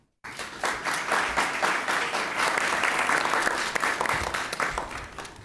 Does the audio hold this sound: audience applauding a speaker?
yes